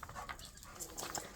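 A puppy whimpers and whines in short, faint high cries scattered over a rough outdoor background on a rural Southern homestead, with a few soft breathy sounds between them.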